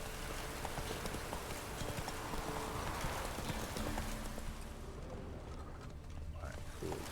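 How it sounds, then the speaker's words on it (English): Roach, the horse in The Witcher video game, walking with a steady clip-clop of hooves at moderate distance over soft ambient outdoor noise. "Come here, horsey. Come on, roach."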